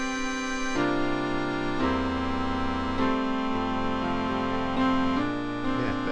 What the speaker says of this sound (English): That's the MIDI file played.